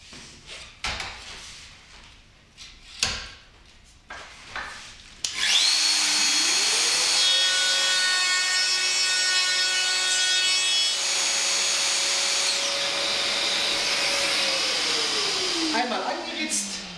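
A wood router runs along a shop-built guide rail, cutting a straight edge in wood: after a few knocks it whines up to a loud, steady high-pitched cut for about ten seconds, then winds down.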